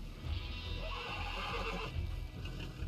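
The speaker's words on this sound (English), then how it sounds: "Chill out the horsey." A horse in Red Dead Redemption lets out a long, close whinny over faint hoof clops, the neigh rising and wavering for nearly three seconds with no speech over it.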